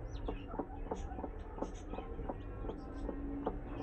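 Newly hatched chicken chicks give faint, high, repeated peeps at an irregular pace over a low background rumble.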